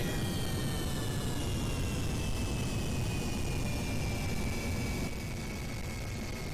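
Steady broadband aircraft engine roar from Kerbal Space Program, a game spaceplane flight, with a faint high whine that slides slowly downward and drops slightly in level near the end as the throttle is eased back.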